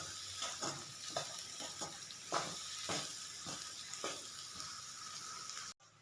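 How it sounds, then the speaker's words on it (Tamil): Lemon rice stirred in a hot pan with a spoon, soft scraping strokes repeating at an irregular rhythm over a low sizzle, close and fairly quiet. "இந்த சாப்பாட்டை நல்லா இப்படி கொஞ்சம் கொஞ்சமாக இப்படி கிளறி விடலாங்க"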